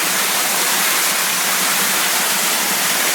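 Water pouring and spraying down onto a camera inside a quartz-vein mine working, a loud, dense, continuous hiss of falling water close up, with no talk.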